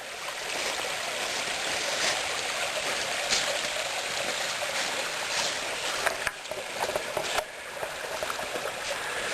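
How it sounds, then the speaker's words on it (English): A small, pretty creek flowing down a hillside along a hiking trail, a steady broadband rushing and trickling of water heard alone and fairly close throughout. "We have this very pretty little creek coming down this side."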